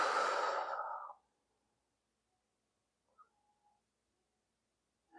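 A long breathy exhale during a yoga session, a loud broad rush of air lasting about a second, followed by near silence with a couple of faint small sounds.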